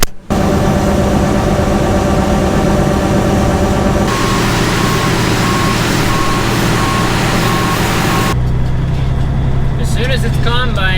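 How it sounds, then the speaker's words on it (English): A John Deere STS combine harvester with a 35-foot Hydroflex header runs on a hemp farm, its engine a loud, dense, steady drone with broadband roar and intermittent beeping, shifting in tone partway through. "STS John Deere combine with a 35-foot Hydroflex header"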